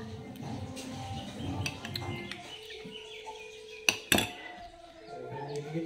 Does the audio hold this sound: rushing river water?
no